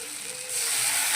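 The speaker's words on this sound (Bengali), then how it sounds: "এবার আমি একটু জল দিয়ে দিচ্ছি।" Water is added to paneer already browned in a hot pan, and a steady hiss swells up as it hits. The sound is fairly quiet and close, with no talking.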